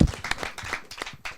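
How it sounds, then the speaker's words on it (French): A radio show's audience breaking into brief scattered clapping, light and fairly close, a handful of hands rather than a full roar. "on applaudit Mohamed, c'est un grand moment de radio"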